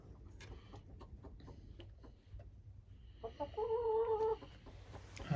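Hens in a new chicken shed, with soft scattered clucks and shuffling at first, then a louder run of sustained, drawn-out hen calls toward the end.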